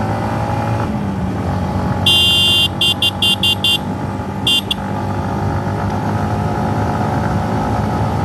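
A Yamaha MT-15 motorcycle revs and accelerates on a road, its engine drone rising in pitch, while a vehicle horn honks in a quick series of short toots midway through.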